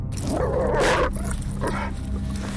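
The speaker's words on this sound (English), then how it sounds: "Another 6 feral dogs appear, and this time they're right around the truck." A pack of feral dogs in a video game barks and whimpers close by around a truck, the yips overlapping against a steady background rumble.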